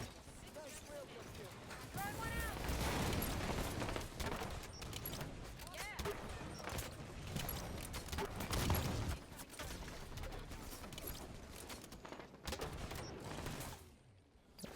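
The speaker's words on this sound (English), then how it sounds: "Number 12 is the Pro Pipe, an improved version of the grenade launcher" The Pro Pipe grenade launcher fires in Halo 5, with repeated thumping shots and bursting blasts alongside mechanical clacks, all heard under continuous spoken narration.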